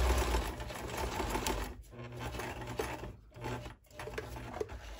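A sewing machine stitches velour banana leaf placemats in quick, steady bursts with brief pauses, fairly close and moderately loud, without talk.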